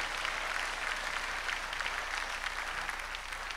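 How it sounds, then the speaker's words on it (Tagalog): A church congregation at a healing service claps for the Lord, a dense, even wash of applause from many hands heard at a moderate distance, continuous for several seconds with no talk over it. "Malakas na palakpak para sa Panginoon."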